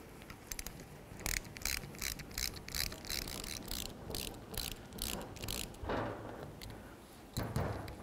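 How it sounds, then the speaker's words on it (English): A ratchet runs in rapid clicking bursts as it bottoms out the brake caliper bracket bolts on a 2007–2012 Nissan Altima, close and steady with short pauses and no talking. "Now we'll just bottom these bolts out."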